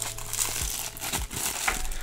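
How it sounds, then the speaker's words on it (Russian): A plastic bag crinkles and crackles in quick, close handling while a puzzle is unboxed, with a few sharper crumples standing out over the short stretch and no talk. "распаковываюсь в пакетике"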